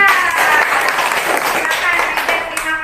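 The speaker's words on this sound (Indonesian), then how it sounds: "Ya, tepuk tangan untuk Maida." Young pupils in a primary classroom applaud a classmate after her story, a dense, steady clatter of many small hands carrying on loud and close throughout, with children's voices and chatter mixed in over the clapping.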